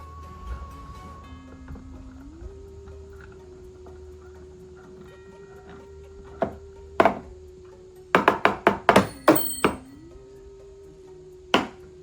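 Plastic joints of an Immortal Werewolf action figure being adjusted, giving a few sharp isolated clicks and then a quick rapid cluster of clicks, near and distinct over a faint steady background hum.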